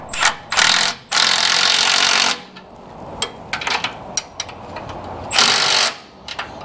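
An impact wrench or similar power tool rattles in loud bursts of about a second or more while unbolting a sway bar mount on a 1960s Chevrolet C10 pickup, with shorter clanks and taps between the runs.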